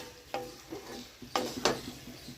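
Meat pieces frying in a spicy cooked masala in a pan, a soft steady sizzle broken by three sharp scraping stirs, quiet and close.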